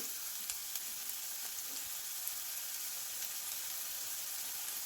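Small onions sauté in a pan for a potato masala curry, producing a loud, continuous close sizzle with faint scrapes from stirring throughout.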